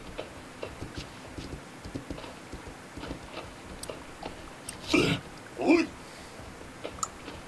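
A horse in the survival video game Myth of Empires moves with soft, irregular hoof clops and clicks over a low ambient bed, punctuated by two louder bursts of noise near the end.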